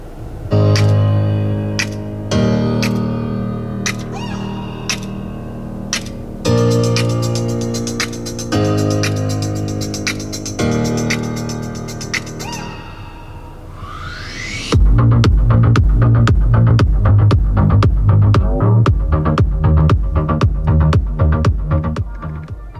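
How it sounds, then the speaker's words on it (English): Music plays through the standard 8-speaker sound system of a 2021 Volvo XC40, a clear, full mix with steady bass and percussive hits that shifts to a denser, punchier section partway through, with no voices. "in this specific example, we just have the standard sound system, which has 8 speakers"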